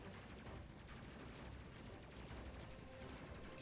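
Sustained gunfire from ship gunners concentrating their fire in the space combat game Space Crew, a dense continuous crackling barrage at steady loudness for the full stretch, with no talking.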